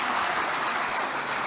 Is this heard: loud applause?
yes